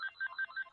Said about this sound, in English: there's my phone. I told you it'd ring